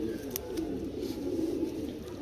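A female homing pigeon gives a low, throaty cooing that rolls on continuously at close range, with a few faint chirps above it.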